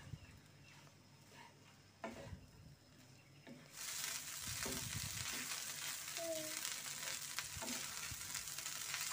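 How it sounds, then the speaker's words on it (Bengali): Food sizzles over high heat after soy sauce is added, starting quietly with a few stirring knocks, then swelling into a loud, continuous frying hiss up close, with no one speaking. "হাই হিটে আরও কিছুক্ষণ এটা রান্না করে নেব।"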